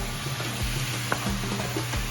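Spices like turmeric and coriander fry in a pan for butter chicken, giving a low steady sizzle under a faint background hum with a few soft clinks of stirring.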